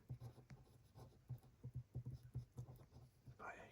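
A pen scratches across paper in a quiet ASMR setting, tapping out uneven strokes and short scribbles close to the microphone. A faint rustle comes near the end.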